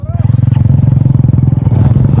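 A motorcycle labours over a rough, landslide-damaged road, its engine chugging steadily and loud throughout, with clattering and scraping from the bumpy surface and voices talking over it.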